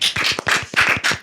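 Quick bursts of hands clapping, several sharp claps in an uneven rhythm, close and fairly loud, with no talking over them.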